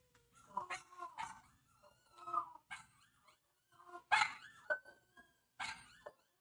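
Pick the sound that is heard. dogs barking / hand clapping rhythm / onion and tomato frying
dogs barking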